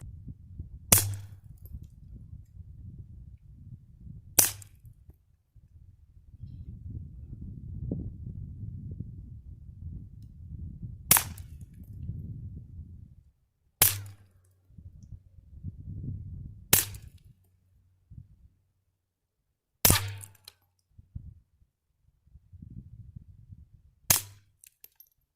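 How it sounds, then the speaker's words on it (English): Walther P22 pistol fired with a suppressor at tomato targets about 7 yards away, giving seven sharp, muffled cracks spaced several seconds apart over low outdoor rumble and handling noise. "We'll go ahead and see how it shoots with the suppressor."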